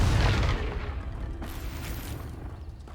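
A Confringo blast spell goes off in Hogwarts Legacy: one loud, close, low boom at the start that rolls into a long rumbling decay, with no talk over it.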